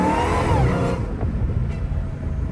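Dodge Hellcat Redeye with a straight-piped exhaust revving, a loud engine roar with a rising whine that drops away as the revs fall off into a rumbling idle.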